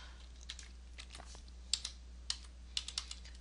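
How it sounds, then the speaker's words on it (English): Computer keyboard keys are tapped in a short irregular burst of light clicks, close and fairly quiet, with no one speaking. "let's type our wedding date"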